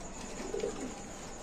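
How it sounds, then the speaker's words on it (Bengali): A pair of racer pigeons in a cage give a soft, low cooing call, a short rolling coo heard faintly and close by with no talk. "এই যে 14 নম্বর খাঁচা একজোড়া রেসার কবুতর আছে"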